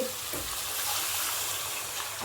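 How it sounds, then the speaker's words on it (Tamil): Continuous splashing of water poured into a pot, a steady hissing rush with no pauses. "இப்போ தண்ணி ஊற்றிக்கலாம்"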